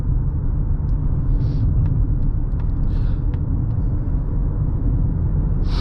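Inside the cabin of a 2023 Mazda CX-50 Meridian Edition cruising on smooth paved road, a steady low rumble of road and engine noise holds constant, with a few faint ticks above it.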